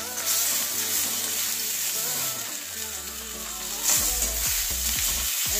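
Tomatoes drop into hot oil for a cashew-and-tomato chutney, raising a loud, steady sizzle and spatter that keeps going, with a few low clunks of a utensil near the end.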